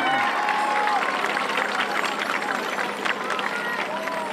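Large outdoor crowd applauding and cheering at a high school band spectacular as the Southern Garrett High School Marching Band from Oakland, Maryland takes the field, steady dense clapping with voices mixed in throughout.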